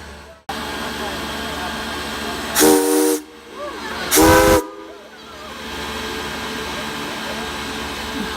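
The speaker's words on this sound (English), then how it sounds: "How about a full-size steam train?" Two sharp blasts of a full-size steam train whistle, each about half a second, ring out over a continuous hiss of steam.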